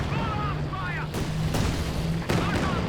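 Calliope rocket artillery in Company of Heroes 2 fires a few sharp, booming salvos spaced about a second apart over a steady battle din, with whistling tones early on and a voice talking throughout.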